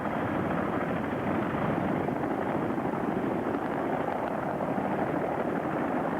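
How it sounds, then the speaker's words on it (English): CH-46 Sea Knight military helicopter approaching during a Marine infantry assault exercise at Camp Lejeune, a steady, dense rotor and engine roar that holds loud and unbroken throughout, with no voices. "The infantry assault force is now approaching our primary support helicopter, the CH-46 Sea Knight."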